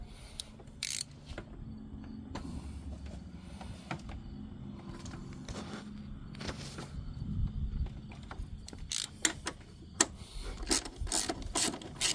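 An 18 mm socket on a ratchet snugs down the bolts of a 3D-printed hybrid poly and rubber transmission mount. Steady close ratcheting clicks run for several seconds, with rubbing and a few sharper metallic knocks toward the end.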